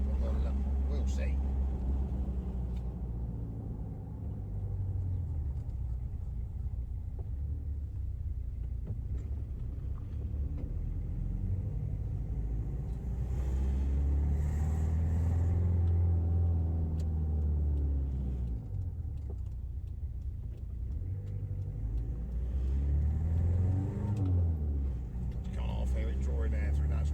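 A fixed-up Toyota Hilux trundles slowly out of a village at about 40 km/h, its steady low engine rumble and road noise filling the cabin throughout, with a voice talking over it.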